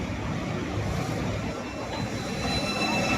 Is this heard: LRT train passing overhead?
yes